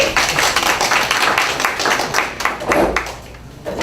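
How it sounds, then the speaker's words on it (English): An audience at a Salvation Army address applauds, a dense, steady wash of many hands clapping that continues for several seconds and fades slightly near the end. "Why don't you give yourselves a round of applause?"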